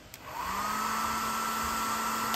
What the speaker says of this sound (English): You can use this dryer to remove the glue,